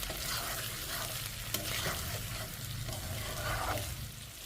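Chicken pieces cooked down in oil in a pan for gondhoraj chicken sizzle steadily, with repeated stirring scrapes and clinks over a constant close frying hiss, no talking.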